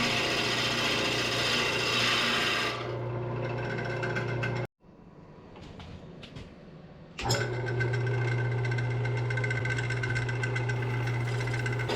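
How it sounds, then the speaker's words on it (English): A woodturning lathe cuts a mortise into the bottom of a bowl, a steady close whirring hum with scraping tool contact that drops out briefly and then resumes at full strength. "here I'm just cutting the mortise into the bottom of the bowl so I can reverse mount it onto my 4-jaw chuck"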